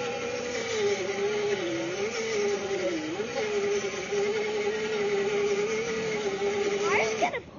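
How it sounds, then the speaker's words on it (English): Dirt bike engine holding a steady drone with slight pitch dips, then a rising rev near the end; loud and close throughout. "Can I waste that with my dirt bike?"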